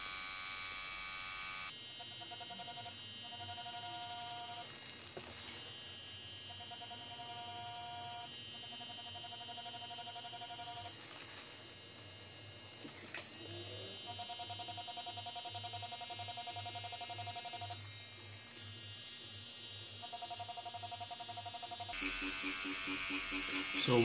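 Tattoo machine buzzing steadily while shading a realistic skull tattoo, a close, continuous electric whine that stops and starts in short runs, with faint talk in the background.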